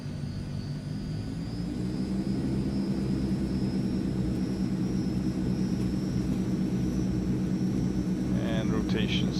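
A Transall C160 cargo plane in Microsoft Flight Simulator rolls for takeoff, its engines holding a loud, steady drone with a faint high whine throughout, and a brief voice sounds near the end.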